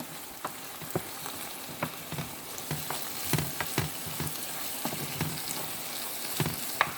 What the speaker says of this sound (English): so the peppers and onions are browning